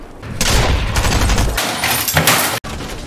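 Gunfire in a shooter video game, loud close bursts of rapid shots that stop briefly and then resume, ending in a sharp cut.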